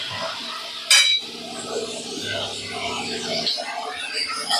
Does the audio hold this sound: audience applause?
no